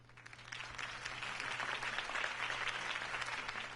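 Steady crowd applause in a Batman video game scene, a dense wash of many hands clapping at moderate loudness, continuous throughout without voices.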